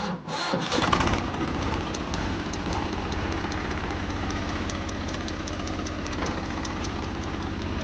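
A fully loaded tractor's engine runs steadily nearby, a loud continuous diesel chug with a fast low pulsing rhythm, preceded by a brief rattling clatter at the start, with no talking.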